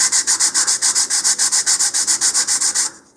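Sandpaper rubs rhythmically along the hard-wood edge of a model rocket fin, about twenty quick even strokes that are close and loud, then stopping abruptly just before the end.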